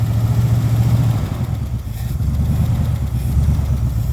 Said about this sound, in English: It's just got a high idle